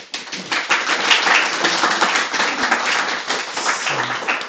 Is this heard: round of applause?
yes